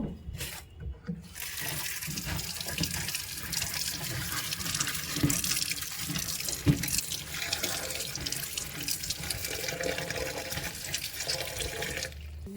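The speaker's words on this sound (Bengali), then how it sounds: "আর এখন মরিচ ধুয়ে নিব।" Chilies are rinsed under a running kitchen tap, a steady close gush of water with splashing and small shifts as the chilies are moved about in the stream, with no talking.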